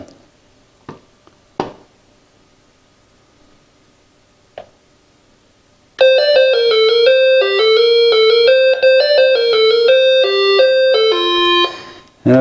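A Dakota Alert M538 wireless driveway sensor chime plays the London Bridge melody as clear, loud electronic tones for about six seconds, following a few sparse clicks and taps.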